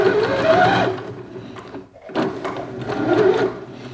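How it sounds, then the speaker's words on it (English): An Elna 450 sewing machine stitches backing fabric onto a cushion along its piping, a steady close mechanical whirr that runs, dips briefly to near quiet, then resumes at full speed. "So now I'll just stitch the backing on. So basically now just stitch right around, just hug that piping as tight as possible."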